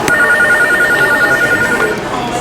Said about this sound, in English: I think this phone is ringing.